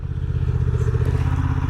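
Honda Transalp motorcycle engine while riding, a steady, loud, rhythmic mid-pitched thrum at constant revs with wind noise, no voices.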